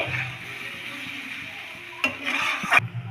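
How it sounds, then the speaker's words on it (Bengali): Vegetables and ground spices frying in a pan for a flattened-rice pulao breakfast, a soft continuous sizzle broken by a few scraping stirs and clinks toward the end. "সমস্ত গুঁড়ো মশলাগুলো দেওয়ার পর আমরা ভালোভাবে মিশিয়ে নিচ্ছি"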